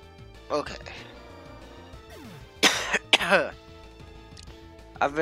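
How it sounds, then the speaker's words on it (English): Several short bursts of coughing and throat clearing from a person with a bad cough and congestion, close and fairly loud, scattered over a low background of music and game sounds. "I've been having like really bad coughs"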